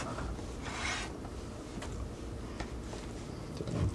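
A knife slicing pork into roughly half-inch sections, soft rasping strokes against a cutting board, one louder rub followed by quieter scraping cuts at an uneven pace, close and fairly faint.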